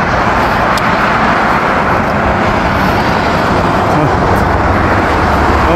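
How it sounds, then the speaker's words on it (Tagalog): Steady road traffic roars continuously and fairly loud while someone crosses a highway on foot, a dense unbroken wash of passing cars with no clear individual vehicles standing out. "Ayan, tawid na ako ng highway."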